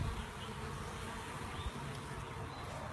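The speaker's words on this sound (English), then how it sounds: "The front of your hive is Covered in bees." Honey bees swarm thickly over the front of a hive, a dense continuous buzzing hum close to the microphone, steady throughout with no voices.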